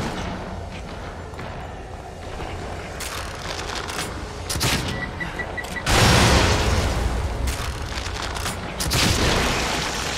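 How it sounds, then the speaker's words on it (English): Explosions and gunfire in The Evil Within survival horror game, a dense run of loud booms and bursts, with a heavier blast about midway and another near the end, rumbling continuously with no speech. "explosions and harpoons"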